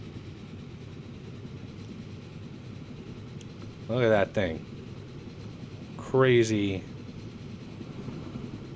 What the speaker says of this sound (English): Let's take a good look at this train in action.